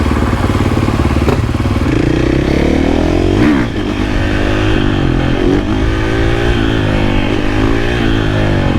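Supermoto motorcycle ripping along back roads, its engine loud and close with a steady drone that climbs and dips through gear changes, a sharp rev surge partway through, continuous without pause.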